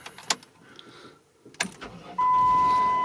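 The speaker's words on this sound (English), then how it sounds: "Let's start the car." A 2006 Dodge Caravan is started after a faulty instrument cluster repair: a few clicks and key jangles, then the starter cranks and the engine catches into a loud, steady idle close by.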